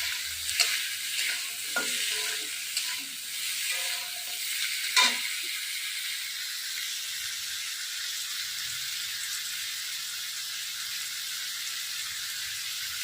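Rohu fish frying in a little oil gives a steady, close sizzle, with a few utensil scrapes and clinks during the first five seconds before the hiss settles into an even, continuous crackle.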